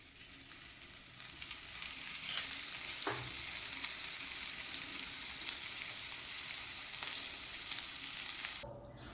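Bottle gourd adai, a savory lentil pancake, frying on a pan with a light drizzle of oil, giving a steady close hiss and sizzle that fades out near the end, with a brief clink partway through.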